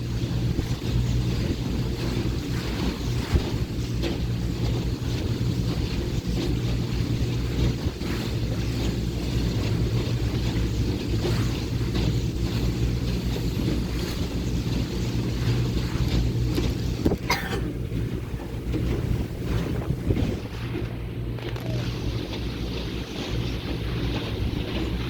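Speed boat running on Georgian Bay: a continuous loud engine drone with steady low rumble, wind buffeting and water rushing against the hull, broken once by a brief splashing burst.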